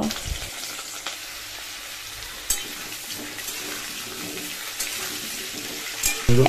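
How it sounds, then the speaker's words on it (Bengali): Potatoes fry in oil in a wok for a home meal, making a continuous close sizzle with occasional sharper crackles and stirring clatter. "আলুটাও আমি এখন লাল লাল করে ভেজে নেব"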